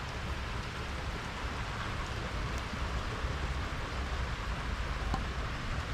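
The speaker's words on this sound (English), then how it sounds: "Today is Wednesday and it is pouring." Heavy rain pouring outdoors, a steady dense hiss with no pauses and no talking.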